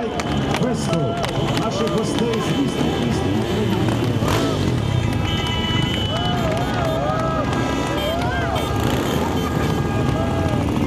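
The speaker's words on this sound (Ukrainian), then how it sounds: "проїзд шанувальників легких двоколісних коней та епатажних блискучих байкерів." Motorcycles ride past during a city day parade in Sumy, a continuous loud engine roar with whining revs and horn-like tones, heavy wind buffeting the microphone throughout.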